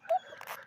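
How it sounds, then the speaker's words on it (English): A dog gives a brief high whimper, a short tonal cry up front followed by softer snuffling sounds, heard fairly close during a police traffic stop. "Oh, there's a dog."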